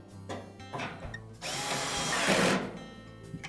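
A power drill drives screws into a Whirlpool dryer panel, with short whirring bursts followed by one longer, louder run that bogs down as each screw tightens, close up with no talk.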